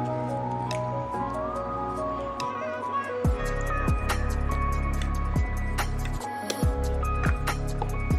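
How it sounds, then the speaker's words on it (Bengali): Ripe mango pulp is squeezed by hand off the stone in repeated soft, wet squelches with a slow, irregular rhythm, close up, over a sustained tonal background hum. "আর আটিটা থেকে একদম শাঁসটাকে হাত দিয়ে চটকে চটকে পার করে নিতে হবে"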